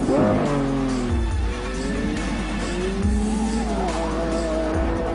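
A V12 Lamborghini Aventador LP 700-4 is driven hard on a test track. The loud, close engine roars and shifts gears while the tyres squeal through the corners.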